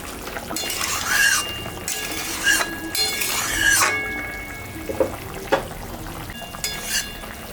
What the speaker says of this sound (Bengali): ঝোলটা ফুটে গেছে, এখন আমি মাছটা দিয়ে দিই।